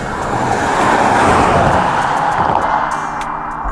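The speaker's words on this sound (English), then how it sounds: "that car must have been doing about 70 miles an hour" A car rushes past at high speed on a Blackpool street, a loud broadband whoosh that swells and then fades, with traffic noise continuing afterward.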